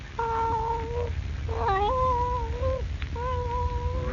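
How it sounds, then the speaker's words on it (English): A Siamese cat gives long, drawn-out wailing meows, three sustained tonal cries in a row, loud and close over a low background rumble. "It's the cat."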